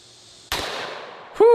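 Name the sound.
gunshot from a heavy-recoil gun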